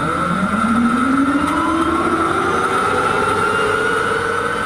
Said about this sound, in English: Hearing the turbine engine from one of the Firebirds start up is sort of eerie. It has this eerie, ethereal whine.